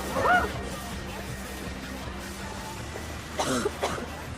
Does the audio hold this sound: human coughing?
yes